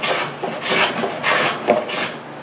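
The wooden rim of a steel-string guitar is sanded by hand before the top is glued on, giving close, rhythmic rasping strokes that repeat steadily in short back-and-forth passes.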